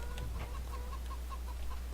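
Chickens clucking in a video game: soft, evenly spaced clucks repeat at a steady pace, faint over a constant low hum.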